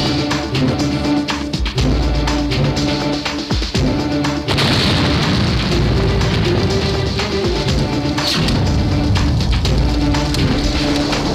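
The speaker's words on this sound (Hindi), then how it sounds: "तो के बारूद और धमाका सुनक बहुत शौक है" A heavy explosion blast from a Bhojpuri feature film's soundtrack erupts as a loud, booming crash midway, followed by a dense roar of rumbling debris that stays loud to the end.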